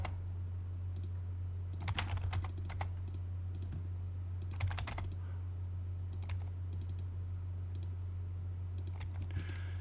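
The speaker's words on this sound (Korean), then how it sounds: "150 입력하고 엔터 클릭할게요" Computer keyboard keys typed in AutoCAD during mechanical design drafting, a few sparse clicks and short bursts of keystrokes close to the mic over a steady low hum, with no voice.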